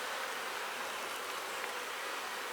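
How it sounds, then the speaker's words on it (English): Honey bees buzz inside an opened beehive, a dense, steady, fairly faint hum that holds unbroken throughout with no talking. "As you see, there's bees down in here."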